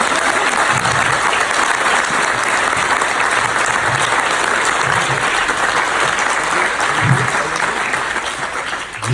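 Wedding guests clap in a sustained, dense round of applause at a reception, loud and steady throughout, with faint crowd murmur beneath.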